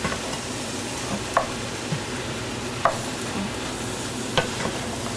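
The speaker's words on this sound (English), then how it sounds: "Now I'm going to go ahead and add the black beans now. Just toss them right on in." Black beans sizzle in a hot pan, a steady close hiss of frying with a few soft scraping stirs spaced through it.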